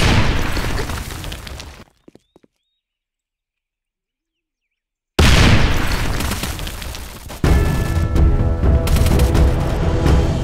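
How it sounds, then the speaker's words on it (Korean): A grenade explodes in a video game battle, a loud blast followed by a dense, roaring rumble after a stretch of near silence, with the noise swelling again toward the end. "수류탄 투척."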